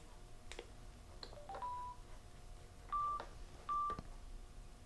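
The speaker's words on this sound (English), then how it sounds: "Okay, so now I'm going to turn on the Sena 50." A Sena 50 motorcycle headset powers on with a faint series of three short electronic beeps, the last two higher and spaced about a second apart, over quiet background hiss.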